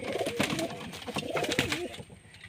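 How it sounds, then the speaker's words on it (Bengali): Pet pigeons, a pair with a male, coo close by in a run of throaty, rolling calls that rise and fall again and again. "এই যে তারি জোড় নর পায়রা"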